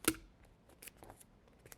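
A foam pool noodle is cut with a sharp snip at the start, followed by a few soft, faint rustling cuts and handling sounds in a quiet room.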